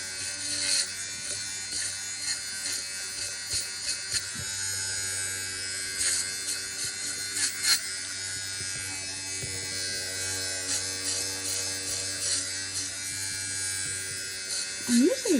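An electric fabric shaver buzzes steadily on the yarn loop hair of a Cabbage Patch Kid doll, a close, continuous high whir with small scratchy changes in pitch as it moves.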